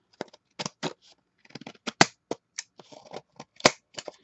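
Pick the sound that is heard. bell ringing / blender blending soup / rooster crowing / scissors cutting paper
scissors cutting paper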